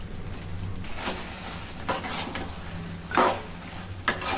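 Mutton curry gets a few stirs in a pot: four or five separate scraping strokes, spaced about a second apart, over a quiet steady cooking hiss.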